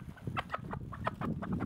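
Native village chickens cluck in a rapid run of short, close calls over a steady background murmur, heard while the birds are being carried along the road to Nilgiri.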